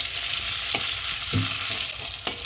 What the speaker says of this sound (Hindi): अदरक लहसुन को ज़्यादा भी ब्राउन नहीं होने देना है, हल्का सा शैलो फ्राई होने देना है।